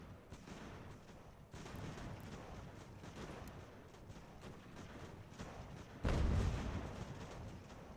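Artillery and musket gunfire in the Ultimate General: American Revolution strategy game during a fort assault, a dense, distant-sounding rumble of continuous shots with a heavier boom near the end.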